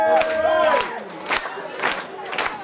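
A live crowd at a motorbike stunt show lets out loud whoops and cheers in several bursts, with shouts rising over a noisy, busy background.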